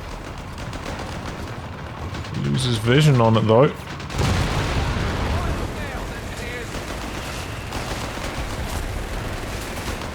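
Battle sounds from Company of Heroes 3: rattling gunfire and booming explosions under a commentator's steady talk, with a loud burst of noise near the middle and ongoing combat clatter after.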